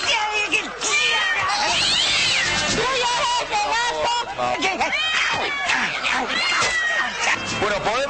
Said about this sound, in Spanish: Dejalo, que es un gato tranquilo.